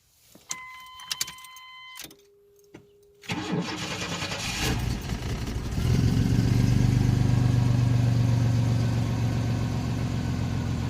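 Chevy S10 Blazer 4x4 engine cranking and catching after a few clicks and beeps, then rising to a steady, loud rumbling idle that holds up close to the end, with no talking.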